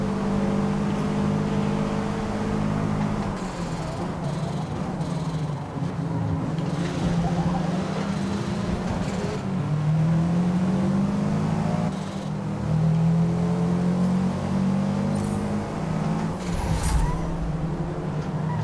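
Race car engines in Forza Motorsport drone and whine steadily through a mid-race lap, with rising and falling pitch sweeps as cars accelerate and shift, continuous and fairly loud with no talk.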